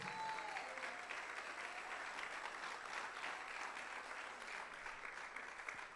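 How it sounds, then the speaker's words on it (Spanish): A church congregation applauds during a sermon, producing a faint, continuous crowd clapping that sounds far off and even throughout. "Si le va a aplaudir al Señor, apláudele."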